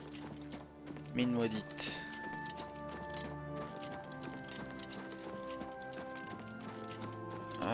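Steady clip-clop of horse hooves trotting at an even pace in the video game Oblivion Remastered, over the game soundtrack, with a short spoken exclamation near the start.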